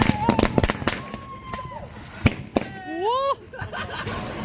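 Naatu vedi country firecrackers burst at a Diwali celebration, several sharp close pops at irregular intervals, with whistling, rising shrieks between them and people talking nearby.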